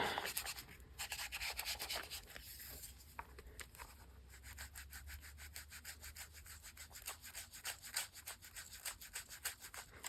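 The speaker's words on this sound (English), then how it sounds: "It's cool when you sand these papers" Sandpaper rubs back and forth over the paper pages of an altered book, a close, quiet scratchy rasping in quick, regular strokes that speed up toward the end, with no talking.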